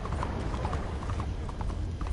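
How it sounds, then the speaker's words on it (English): Horse hooves clip-clopping on hard ground in a video game, a quick steady rhythm of close, fairly loud hoofbeats without speech. "Wow, fine horse there."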